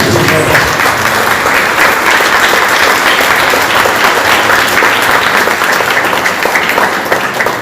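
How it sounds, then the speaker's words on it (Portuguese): A church congregation applauding during a Sunday service in Botucatu, Brazil, loud continuous clapping from many hands filling the room for nearly eight seconds, steady and close. "Vamos aplaudir o Senhor pela vida deles."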